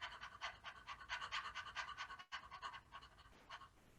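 Rhythmic short panting breaths from singers doing a breathing exercise at a choir rehearsal, a quick steady series of soft puffs with one brief pause partway through.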